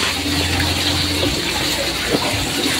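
Water pours steadily while someone waters ground on a cattle farm in Masbate, a continuous close splashing gush that runs for a few seconds with no talk over it.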